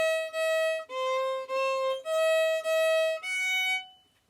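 A solo fiddle plays a line of the folk tune Skip To My Lou, with bright bowed notes in a short stepwise phrase, each held briefly, close and clean against silence, ending on a fading note.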